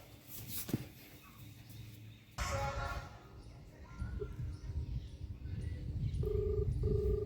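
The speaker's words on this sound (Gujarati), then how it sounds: "ના ના સરપંચ ને હું હાલ ફોન કરું યાર" A telephone being dialed, with a short run of keypad tones near the end over a noisy indoor background and some murmuring.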